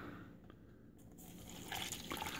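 Water is poured into a military MRE ration pouch, a soft splashing trickle that starts faint and grows louder and fuller toward the end, with no voices.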